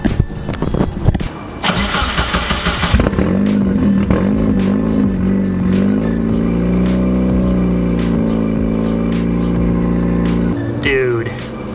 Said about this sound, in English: Sounds like it's running on 3 cylinders.